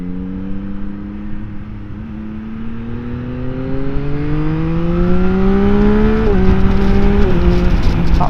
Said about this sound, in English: a little fart there from the standard exhaust